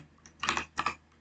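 A few quick keystrokes on a computer keyboard while entering Cisco switch configuration commands: two short clustered bursts of clicking, close and moderately quiet, with no talking.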